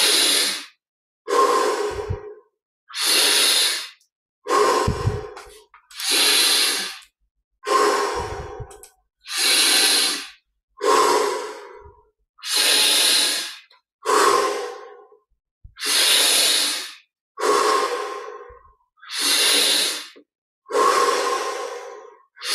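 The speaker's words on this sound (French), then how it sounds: "Grande inspire par le nez, expire par la bouche." Slow, deep breaths drawn in through the nose and pushed out through the mouth during a guided meditation, about a dozen long airy exhalations in a steady even rhythm, close and soft with short silences between.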